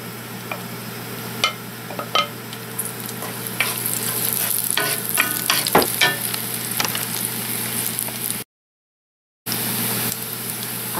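Garlic sizzling in hot peanut oil for sweet potato noodles, a steady frying crackle broken by scraping stirs and clicks, with a brief silent break near the end.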